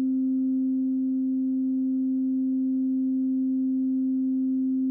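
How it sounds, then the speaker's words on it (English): A steady generated sine tone at middle C, 261.6 hertz, holds completely unchanged for the full duration at even loudness, with a faint harmonic above it and no voices. "I'm going to generate a tone, and I'm going to pick the frequency of this tone to be middle C."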